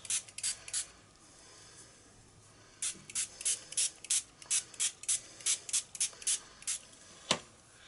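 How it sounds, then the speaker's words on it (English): Short hissing spritzes of ink spray misted around the edges of an art journal page, a first burst of four, a pause, then about a dozen quick sprays in a steady rhythm, close and crisp. "I'm just going to spritz around the edges"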